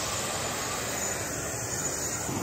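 An airplane engine gives a loud, continuous roar and drone heard from inside a flight, steady and unbroken with no voices.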